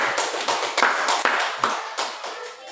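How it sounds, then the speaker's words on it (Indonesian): A few people clapping at a school teachers' gathering, honoring a teacher, with distinct separate claps at an uneven rhythm, fairly close and moderately loud. "tepuk tangan untuk Ibu Atania"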